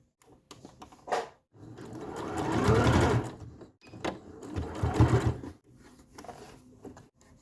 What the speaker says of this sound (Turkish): Buradan e, yardımcı dikiş atacağız.